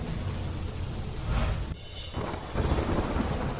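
Heavy monsoon downpour with thunder in the Shivalik hills of Uttar Pradesh, a steady roar of rain with deep rumbling surges and a brief dip in the middle before the storm noise swells again.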